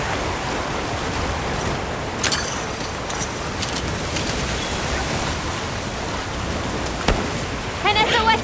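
Heavy downpour in the video game Monster Hunter Wilds, a continuous hiss of rain with a few sharp clicks and game effects, ending with brief chirping sounds.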